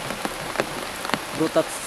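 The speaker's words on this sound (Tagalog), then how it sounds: "dahil sa lakas ng ulan" Heavy rain pours down onto surfaces, a dense and steady patter with distinct individual drops striking close by.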